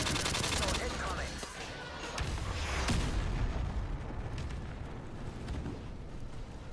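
Loud, dense bursts of explosions and heavy gunfire fill a tactical multiplayer video game match as an incoming missile strikes, with a sharp blast near the middle over continuous rumbling battle noise.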